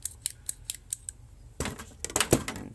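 Old Weiss snips are handled in a toolbox. Their metal blades snap and click in a quick, close series, with louder clatter toward the end.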